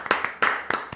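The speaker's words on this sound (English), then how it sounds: "let's clap it up for that" Hand claps from a single person on a live show, four sharp close claps in quick uneven succession, loud and alone with no talk over them.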